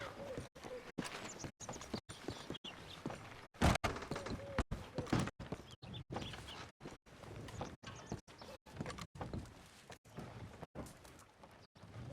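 Horse hooves clip-clop in the Red Dead Redemption 2 game, a steady, evenly paced run of hoofbeats at moderate distance that continues throughout with no talk over it.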